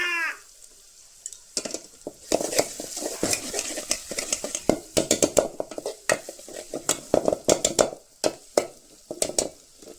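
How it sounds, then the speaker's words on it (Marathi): Onion fries in a pot on a village wood-fired stove while being stirred for a mutton dish: repeated close metal scrapes and clinks of a spoon against the pot, irregular and busy, over a soft sizzle. "व्यवस्थित कांदा या ठिकाणी फराय होतोय"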